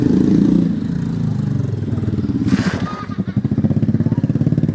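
Motorcycles pass along a road at dusk, a loud, steady engine drone with a rising pass at the start, then a rapid, throbbing idle-like putter close by, with a faint voice briefly underneath.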